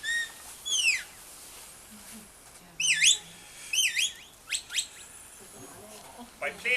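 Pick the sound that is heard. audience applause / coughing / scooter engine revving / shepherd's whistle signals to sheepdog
shepherd's whistle signals to sheepdog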